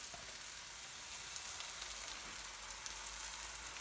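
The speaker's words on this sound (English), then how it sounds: "So I've got some tomato puree that I'm going to add in now." Tomato puree hits a hot pan and sizzles steadily, a soft, even frying hiss with faint crackles that carries on without a break and with no talking.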